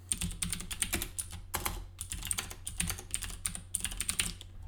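Computer keyboard keys clatter in quick bursts as a terminal command is typed, with brief pauses between runs of keystrokes, close and fairly quiet over a low steady hum.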